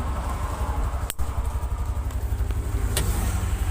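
Traffic rushing along a bypass highway, with a continuous engine and tyre roar from passing cars and motorbikes and a few sharper whooshes as vehicles go by close.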